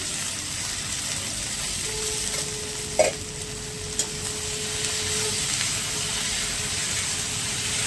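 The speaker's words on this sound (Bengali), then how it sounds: "একটু ভাজা ভাজা হয়ে যাওয়ার পরে দেখুন আমি টমেটোগুলো দিয়ে দিচ্ছি।" Chopped tomatoes sizzle steadily in hot oil in a village-kitchen pan while being stirred, with a few sharp scrapes and knocks of the spoon against the pan over an even frying hiss.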